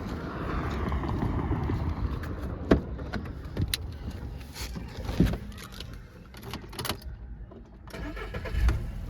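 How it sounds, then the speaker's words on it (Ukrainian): A 2012 Volkswagen Touran with a 1.6 MPI petrol engine starts up quickly and settles into a steady idle, heard close by with no talk, along with a few sharp clicks and knocks from inside the car. "Зараз ще заведемо, перевіримо двигун."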